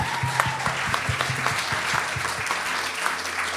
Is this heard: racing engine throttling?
no